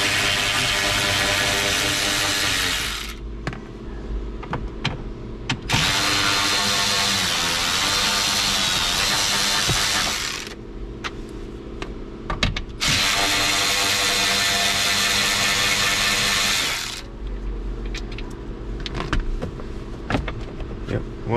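A power driver backs out 10 mm bolts and Phillips screws from under a car dash, where the ignition is stuck. Three long, loud whirring bursts are separated by quieter gaps of handling noise.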